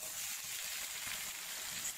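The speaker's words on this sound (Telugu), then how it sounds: "pan లో మనం ఆయిల్ వేసాం కదా ఇప్పుడు దీంట్లోకి టమాటాలు వేద్దాం" Tomatoes drop into hot oil in a pan for a coriander-tomato chutney, giving a steady, even sizzle that carries on without a break for the full two seconds, fairly quiet and with no voices over it.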